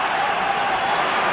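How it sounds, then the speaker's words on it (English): A rugby stadium crowd at an Ireland versus Wales international swells into a broad, steady roar of cheering, heard as a dense wash of many distant voices. "That's brought the crowd to life"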